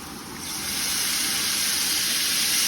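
A steady loud hiss and sizzle rises as two tablespoons of apple cider vinegar hit a hot pan to deglaze it while cooking goose, the steam building continuously.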